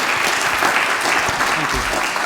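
An audience at an audit conference claps loudly and continuously, a dense steady wash of applause with no break.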